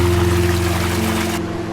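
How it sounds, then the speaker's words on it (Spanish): Cold and hot water mixing and pouring steadily in a mountain-fed natural pool in Canada, a continuous rushing splash with low humming undertones; the hiss thins out abruptly near the end while the flow carries on. "Se mezcla el agua fría con la caliente"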